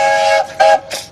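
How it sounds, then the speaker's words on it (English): Whistle of the ferry Lady Hampton sounding over an 18ft skiff championship race on the water: a loud, steady harmonic blast held for nearly half a second, then two shorter toots, the last one fainter. "That's the whistle of the Lady Hampton."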